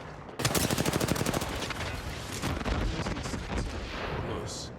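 Rapid bursts of gunfire in Apex Legends during a pro league esports match, dense repeated shots loud and close for several seconds, then more scattered firing continuing under game sounds.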